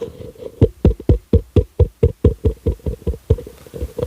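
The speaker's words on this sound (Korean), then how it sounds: "하나님께 모든 영광의 박수 올려드립니다" Steady rhythmic clapping from a church congregation keeps an even beat for several seconds, the group clapping in time.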